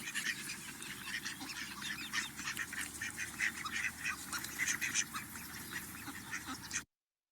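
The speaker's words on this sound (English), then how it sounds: "The male, on the other hand, produces these soft, kind of like quiet, raspy quacks." Soft, raspy quacks from a male duck repeat steadily at a moderate distance, a quiet stream of calls that runs for several seconds and then stops abruptly.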